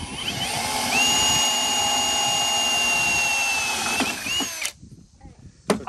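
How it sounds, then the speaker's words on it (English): A power drill whines steadily at high speed as it bores into metal bars in a kitchen, loud and close for about four seconds before it winds down and stops, followed by quieter handling noises. "We'll have to drill into these metal bars."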